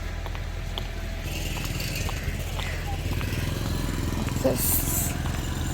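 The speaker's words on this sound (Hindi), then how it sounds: "यहाँ से सारे बाइक्स आते हैं जो बच्चों को लेने के लिए आते हैं" Motorcycles idle and putter at a school entrance in Punjab where bikes arrive to collect children, a low steady engine rumble under a person talking.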